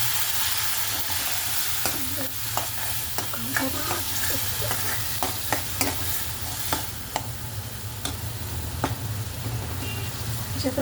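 Spice tempering sizzles steadily in a pan for a green chickpea dish while a spoon stirs and scrapes, giving repeated sharp scraping ticks over a constant frying hiss, close and fairly loud.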